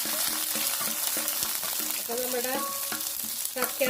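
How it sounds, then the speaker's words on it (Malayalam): Mustard seeds splutter in hot coconut oil in a pan, a dense sizzle with sharp crackling pops and light utensil scraping, close and continuous, with no talk. "നമ്മുടെ വെളിച്ചെണ്ണ ചൂടായിട്ടുണ്ട് കടുക് ഇടണം കേട്ടോ കടുക് ഒന്ന് പതുക്കെ പൊട്ടട്ടെ"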